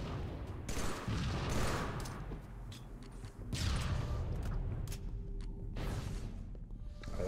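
Halo 3 gunfire in an online ranked Slayer match, a steady mix of rapid bursts and single shots at close to moderate distance with no voices over it.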